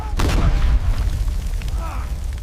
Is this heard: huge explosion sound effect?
yes